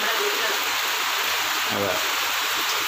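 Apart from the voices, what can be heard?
rain falling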